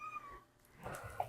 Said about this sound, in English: I have a cat here, one of my cats.